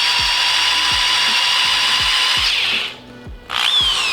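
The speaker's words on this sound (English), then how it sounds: "drill out an 8-ball" A power drill bores into an 8-ball shift knob for a go-kart rotary shifter, giving a loud, close, steady grinding whine that dips briefly near the end before spinning back up.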